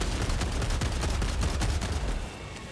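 Rapid bursts of gunfire from a weapon in the video game Helldivers 2, loud and dense with overlapping shots for over two seconds before easing off slightly near the end.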